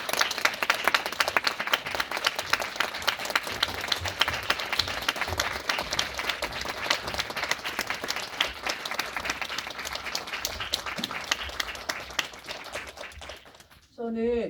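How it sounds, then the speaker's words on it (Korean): Sustained audience applause fills a cinema screening hall as guests are welcomed for a post-film discussion of a documentary, dense steady clapping that holds for many seconds before cutting off near the end. "주인공 분과 그리고 게스트 분 모실 테니까 박수 부탁드립니다"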